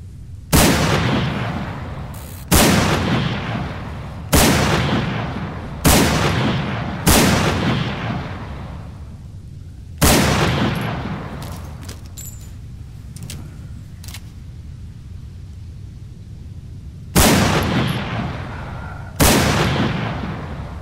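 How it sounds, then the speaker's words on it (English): Chiappa Rhino revolver shots fired at zombies in the video game Breaking Point: eight loud, sharp reports spaced a few seconds apart, each with a decaying tail, plus faint clicks and rattles between them. "let's take a look at the Chiappa Rhino in action against zombies"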